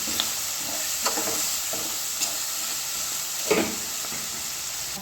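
Sardine roe is mashed and mixed in a pan over steady sizzling and hissing, with a few sharp scrapes and taps of a utensil against the pan.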